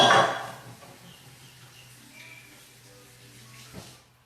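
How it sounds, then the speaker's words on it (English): Water from a kitchen tap splashes over hands being rinsed, a brief loud gush at the start that quickly drops to a faint trickle and low background hiss. "now I'm going to rinse my hands"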